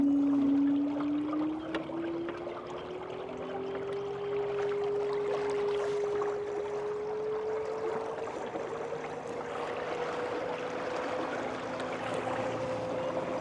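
Electric rudder-style outboard motor driving a wooden boat on a creek, a steady whine rising slowly in pitch as it speeds up, set against continuous water rush and splashing.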